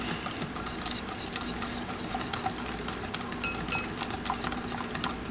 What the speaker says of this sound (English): And I'm just going to use a whisk.